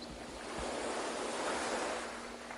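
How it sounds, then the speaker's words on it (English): Ocean surf washing onto the shore in a broad, steady hiss that swells and eases, with some wind noise and nothing else. "waves dragging out"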